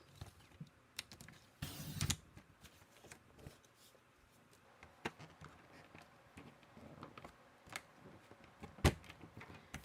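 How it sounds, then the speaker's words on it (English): A 2-inch strip of cardstock being cut for a slimline shaker card: a harsh burst of cutting noise near the start, then scattered sharp paper clicks and rustles, close and quiet. "I'm going to cut maybe a 2-inch strip here."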